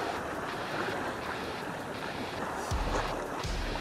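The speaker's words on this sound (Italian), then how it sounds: "Il mare è un po' mosso." Choppy sea at the point of a harbour breakwater, a continuous rushing wash of waves with heavy wind buffeting on the microphone and a couple of louder surges near the end.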